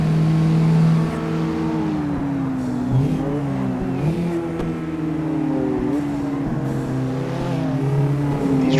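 Cars in a racing video game, Mazdaspeed3 and Subaru STI hatchbacks, accelerating with steady engine drone and gear-change pitch shifts, engine tones rising and falling as they run continuously.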